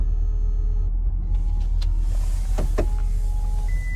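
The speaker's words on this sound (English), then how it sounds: "put the top back up for now" A 2021 Chevrolet Camaro 2SS convertible's power soft top closes with a steady electric motor whine over a low idling rumble, a few mechanical clunks and latch clicks near the end, close by and with no talking.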